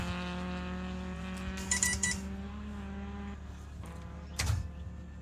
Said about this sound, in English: And a great looking and sounding car.